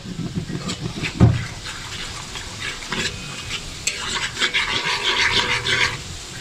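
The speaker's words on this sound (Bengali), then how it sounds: "তেলে পেঁয়াজগুলো ছেড়ে দিচ্ছি দেখুন দিয়ে দিয়েছি আমি এখন এইভাবে মেরে মেরে বেরেস্তা করে নিচ্ছি" Onions frying in oil until browned for egg jali kebab, a loud close sizzle with repeated scraping and pressing strokes of a spatula and a sharp knock near the start.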